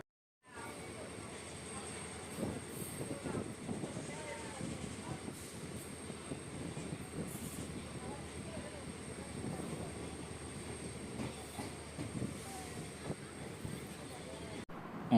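The Guruvayur Express, running from Madurai toward Sengottai, rumbles along its rails as a steady, fairly quiet drone heard from inside the moving train, with faint clatters and bumps scattered through it.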